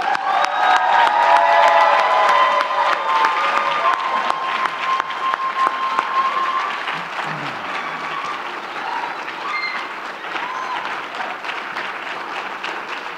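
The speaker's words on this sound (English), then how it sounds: "Please give all our master's graduates another round of applause." A university commencement crowd applauds master's graduates with sustained, loud clapping mixed with scattered cheers and whoops, some tonal sounds threading through early on before the applause settles to a steady roar.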